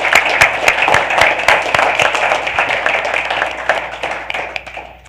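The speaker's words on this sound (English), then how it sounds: "Let's give them a round of applause" Applause for interns at a Board of Education business meeting, a small group clapping with distinct individual claps audible in the mix, holding steady and then gradually tapering off.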